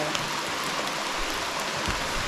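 Steady rain falling on a hiking trail along the Manistee River in Michigan, a dense, even hiss of drops that holds at the same level throughout, with no voices.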